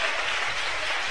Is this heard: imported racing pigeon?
no